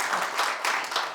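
Applause from a church congregation during a sermon: a short, dense burst of many hands clapping at once, steady and fairly loud, with no voices over it.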